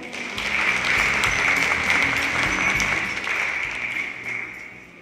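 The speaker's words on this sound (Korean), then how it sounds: "박수로 맞아주시기 바랍니다." Forum audience applauding to welcome a lecturer onto the stage, a sustained, fairly even round of clapping across the hall that fades slightly toward the end, with no talking over it.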